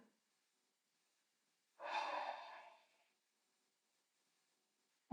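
A single slow, deep breath drawn during a beginner yoga session, soft and close, surrounded by silence, with a brief sharp sound cutting in at the very end.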